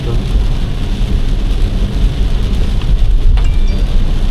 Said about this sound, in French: C'est de la pluie forte.